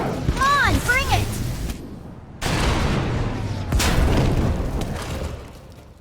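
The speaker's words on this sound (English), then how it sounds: "We heard explosions." Heavy booms and blasts in the video game Star Wars: The Old Republic strike in several separate bursts, each with a rumbling tail. A voice speaks briefly at the start.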